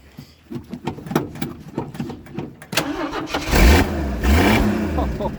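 A car engine cranks with rapid starter clicks, then catches and roars to life, revving loudly up close and settling into a steady idle.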